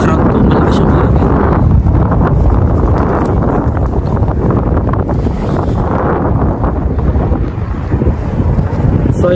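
Strong wind buffets a microphone beside a busy main-road highway, a loud, continuous low roar and rumble that barely lets up for the whole stretch.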